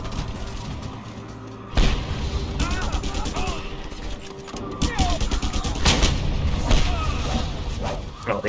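Enemy shotgun blasts in a combat video game, with repeated sharp gunfire bursts and booms in a rapid, uneven volley, joined by mechanical clatter and a voice talking at times.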